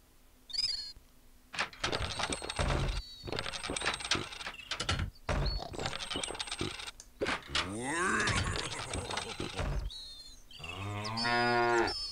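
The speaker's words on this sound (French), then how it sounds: "Mais il y a des vaches dans le coin, normalement." Cows moo repeatedly in a medieval fantasy video game, several drawn-out bellowing calls spread across the scene, with other game sounds between them.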